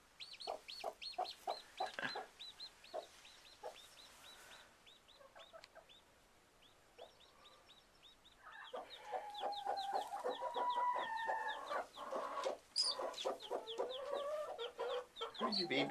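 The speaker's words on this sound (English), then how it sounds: "Oh, it's a baby. I hear the baby peeping." An old hen clucking softly alongside her baby chick's rapid high peeps, close by in a quiet setting, with a brief lull midway before the calls grow busier again.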